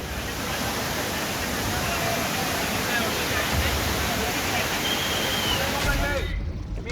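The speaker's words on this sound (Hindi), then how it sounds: "लगातार बारिश से पहाड़ों से झरने फूट पड़े हैं महाराष्ट्र के पुणे के लोनावाला में" Waterfalls pour from the hills around Lonavala, near Pune, after continuous monsoon rain: a loud, unbroken rushing roar of water that cuts off abruptly at the end.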